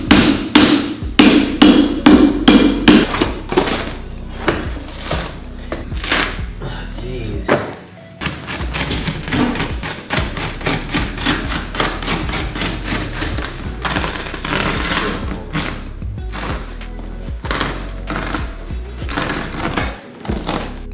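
A hammer strikes repeatedly at tacked-down carpet on a spiral staircase during demolition, with loud close blows in rapid uneven bursts and brief pauses between runs.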